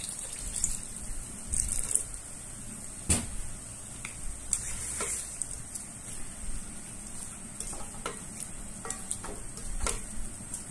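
Water poured into rendang simmering in a hot pan sets off a steady sizzle, with scraping stirring and a few sharper clatters of the spatula against the pan throughout.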